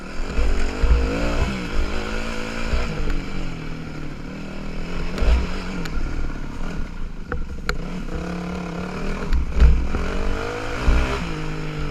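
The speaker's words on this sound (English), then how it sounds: "There's a bike kicking out on that again." A dirt bike engine on a loop track revs and drops repeatedly at close range, loud and throaty, with gear changes and clattering bumps breaking up the drone.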